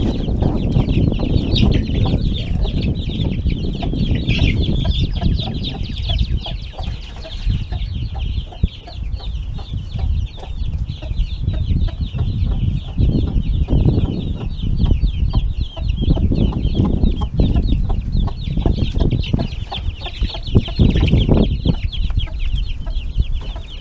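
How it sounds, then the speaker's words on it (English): Hens and baby chicks cluck and cheep in a close, busy farmyard chorus, a steady dense layer of high peeping over lower clucks that goes on without a break. "I forgot to let the baby chicks out."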